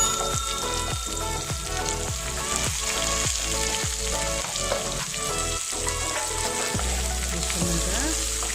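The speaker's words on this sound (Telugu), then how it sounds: "వీటిని కొంచెం ఫ్రై చేసుకోవాలి" Chopped onions with cinnamon sticks and dried red chilies sizzle steadily in hot oil for a Dhaba-style palak paneer, with regular scraping stirs of a spoon in the pan throughout and no voices.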